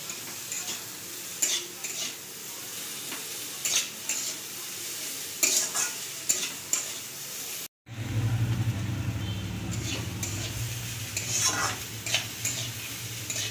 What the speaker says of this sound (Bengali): পেঁয়াজ আর ক্যাপসিকামটা দিয়ে দেবে দিয়ে এবারে গ্যাসের আঁচটাকে একটু জোরে দিয়ে সব কিছুকে আবার একটু ভেজে নেব